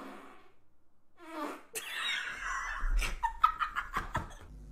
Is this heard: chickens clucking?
no